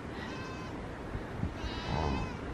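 A herd of goats bleats on a Himalayan trek in the Annapurna region, with several moderate, wavering calls spread over a steady outdoor background.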